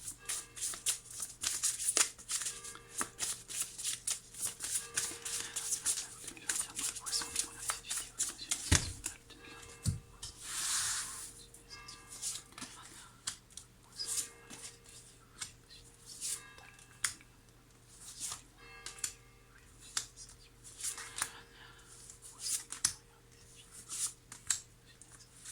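Tarot cards are shuffled close up for a reading in quiet, rapid riffling and soft slapping bursts that repeat throughout, with faint talking in the background.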